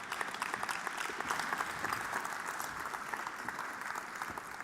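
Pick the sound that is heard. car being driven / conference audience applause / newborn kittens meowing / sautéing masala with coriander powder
conference audience applause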